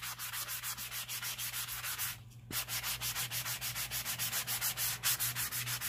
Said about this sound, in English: you can go over it with one of these sanding blocks